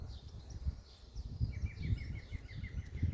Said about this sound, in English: I can hear a wonderful green woodpecker in the background.